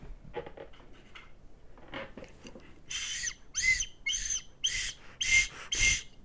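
A cheap plastic prize-bin toy whistle is blown in a series of about seven short, shrill, breathy blasts, each roughly half a second, following some quieter fumbling sounds.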